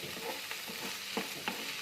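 Green beans palya with ground masala of fresh coconut, coriander seeds and peanuts is stirred in a frying pan, giving soft scraping strokes and light sizzling close by, with no talking.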